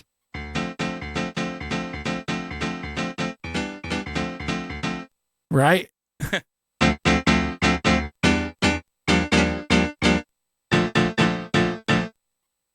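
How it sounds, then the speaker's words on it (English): Old-school single-sample piano, one recording stretched across many notes, plays short repeated chords and phrases in bursts separated by brief gaps, with a short noisy blip in the middle and a quick spoken word near the end. "the result is that you get pianos that sound like"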